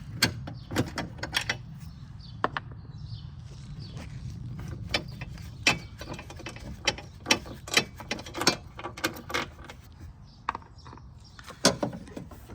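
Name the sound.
ratchet with 13 mm socket loosening car battery bolts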